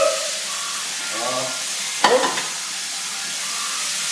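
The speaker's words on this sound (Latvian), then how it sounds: "Kad pāne jau cepjās, un mēs jūtam, kad vēsas arī cepjās, mēs piesakam klāt olus." Eggs and food frying in a pan, a steady sizzle with stirring and scraping, and a sharp clatter partway through as something is added or knocked against the pan.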